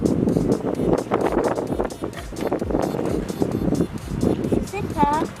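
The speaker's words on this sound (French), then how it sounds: "il y a vraiment beaucoup de vent" Strong outdoor wind buffets the microphone in uneven, rumbling gusts throughout, with people talking over it and a brief high squeaky sound near the end.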